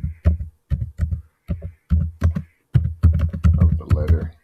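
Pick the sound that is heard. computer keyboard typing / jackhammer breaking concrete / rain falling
computer keyboard typing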